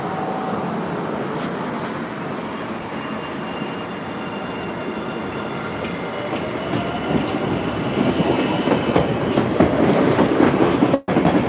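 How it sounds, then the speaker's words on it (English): A transit train rumbles steadily out of the station with clattering wheels, the rolling noise swelling louder toward the end, heard without any voices. "There's the RC train now leaving the station."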